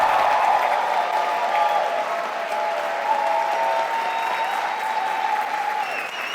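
A crowd at a live storytelling stage show claps loudly and continuously, a dense, even roar of applause that holds steady throughout without any talk on top.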